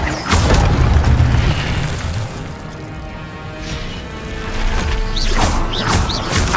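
An Incendio fire spell cast in Hogwarts Legacy erupts as a loud, booming blast with crashing impacts, then rolls on as a heavy rumble, with further whooshing bursts near the end.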